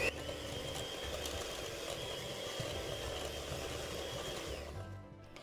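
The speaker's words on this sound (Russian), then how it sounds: "И теперь еще раз все взбиваем." Steady mechanical whirr of an electric mixer beating apple pie batter made with rice flour, continuous and close for about five seconds before cutting off.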